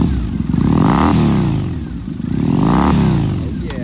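A used black 2014 Triumph Bonneville T100 retro twin revving at a powersports dealership, loud and close, rising and falling twice in strong swells over a steady rumble.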